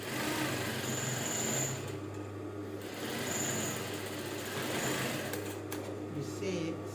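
A sewing machine hums along a curved seam on fabric for short trousers, a fairly quiet, continuous mechanical drone with faint higher whines that fades in and out, with no talking over it.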